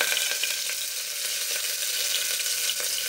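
Slit green chillies and two large onions sautéing in a pan, a loud, dense and continuous sizzle that stays even throughout, with no voices.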